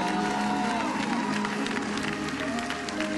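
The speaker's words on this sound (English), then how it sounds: "come on, won't you clap a little louder?" A church congregation claps louder during a Pentecost praise break, sustained broadband applause from a large crowd blended with sustained musical tones and some cheering, steady without pauses.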